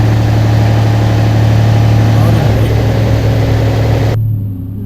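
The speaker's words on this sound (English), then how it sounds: "Just driving the car nice and gently." A Land Rover Discovery 4 engine running as the car is driven gently at light throttle, a loud, steady low hum close by that shifts pitch partway through and then drops away abruptly near the end.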